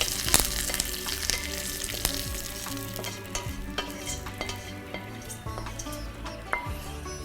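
Food frying in a pan, steady hiss of sizzling oil under repeated scraping and tapping strokes of a spoon stirring and mixing, close and moderately quiet.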